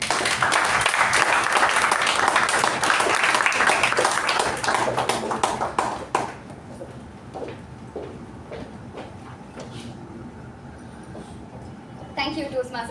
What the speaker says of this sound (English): with a huge round of applause, please help me in welcoming our area director